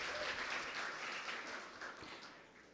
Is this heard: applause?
yes